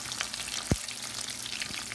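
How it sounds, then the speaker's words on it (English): Quiet crackling sizzle of shrimp frying in hot grease, with a single soft thump partway through as one drops in, and faint bubbling throughout. "So grease is hot, so we're gonna drop our first one in."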